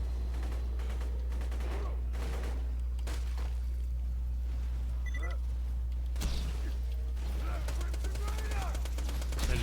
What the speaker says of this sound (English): the gun pretty much has no recoil the longer you keep shooting it